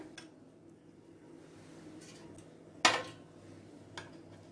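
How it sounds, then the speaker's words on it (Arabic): Fried catfish pieces are laid into a metal baking tray, giving a single sharp metallic clink amid faint, soft handling sounds and light kitchen background noise. "هنرصها كده بقى في الصينيه"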